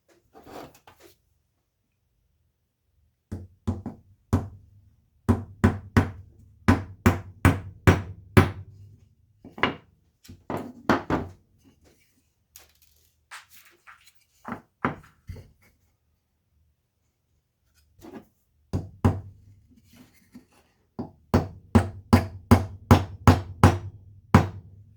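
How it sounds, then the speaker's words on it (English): Nails are hammered by hand into opposite sides of a square, in bursts of sharp, close knocks: short runs of quick regular strikes separated by quiet pauses and a few lighter taps. "And hammer nails into opposite sides."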